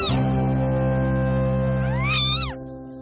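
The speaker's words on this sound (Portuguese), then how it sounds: "Os filhotes do gato selvagem africano nasceram escondidos numa toca" African wildcat kittens emerging from a hidden den give a loud, sustained wavering meow lasting most of the moment, with a rising and falling cry near the end, close and clear with no talk.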